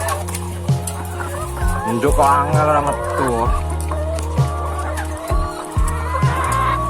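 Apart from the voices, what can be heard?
chicken clucking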